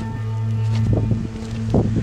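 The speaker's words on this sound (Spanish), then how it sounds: "Está soplando el viento con todo." Strong wind buffets the microphone at a mountain stream crossing in Patagonia, a steady low roar with gusting surges and rustling across a couple of seconds.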